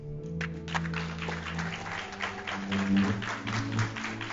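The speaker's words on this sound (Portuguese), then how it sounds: "Mais uma salva de palmas para o Márcio" An audience at a book-launch talk claps for the speaker Márcio Neves, with dense, sustained applause over steady tones in the background.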